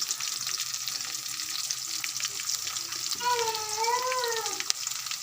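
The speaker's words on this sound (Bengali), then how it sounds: "পেঁয়াজগুলো হালকা বেজে এখন মরিচ ছেড়ে দিয়েছি সামান্য পরিমাণে হলুদ দিয়ে দিয়েছি" Onions, chili and a little turmeric fry in a pan for a fish curry, giving a steady close sizzle throughout, with a brief whistling tone rising over it partway through.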